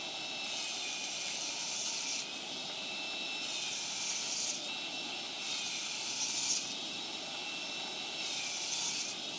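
A Metabo TS254 table saw rip-cutting melamine chipboard gives a loud, steady high whine with a broad rushing roar that swells and eases every couple of seconds as the blade works through the board.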